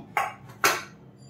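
A bowl holding cake batter is set down on a stand inside a pressure cooker, giving two short, close metallic clinks about half a second apart in a quiet kitchen.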